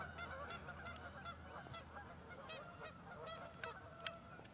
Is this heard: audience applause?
no